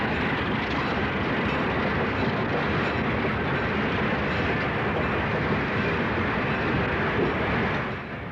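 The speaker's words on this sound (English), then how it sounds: "This is another Alco PA-powered train." A Southern Pacific passenger train powered by Alco PA diesel locomotives rolls past close by, a dense, steady roar of engine and wheels that holds level for several seconds before easing off at the end.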